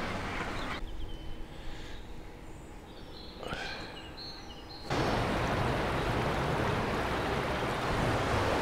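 Fast-flowing stream water rushing steadily, quieter at first behind wind and a few bird calls, then swelling to a loud, close, continuous roar for the last few seconds.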